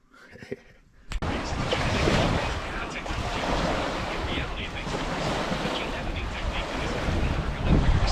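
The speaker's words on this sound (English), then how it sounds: "Those are the lowest swells we're gonna have all day." Steady roar of surf and swells with heavy wind buffeting the microphone at MacLeod Provincial Park, Ontario, continuous and loud after a brief quieter start.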